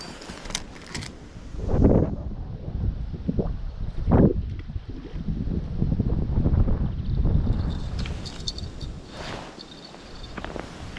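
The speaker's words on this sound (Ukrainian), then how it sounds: "Бачите, який вітер дує сьогодні." Gusty wind by a river buffets the microphone in rumbling, broadband surges that swell and fade across the clip, loud and close.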